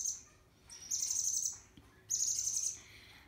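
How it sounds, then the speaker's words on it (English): A young cockatiel chick cries after hand-feeding with high, raspy, repeated begging calls. They come in two loud bursts close to the listener over faint background noise. "particularly that little one will cry for a little bit after being fed"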